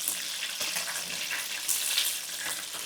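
Battered chicken pieces fry in hot oil with a dense, steady bright sizzle and crackle, close and continuous with no voices.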